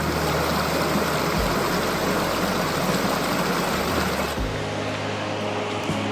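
A creek near Phantom Ranch in the Grand Canyon rushes steadily and loudly close by, a dense continuous wash of flowing water with no talk over it.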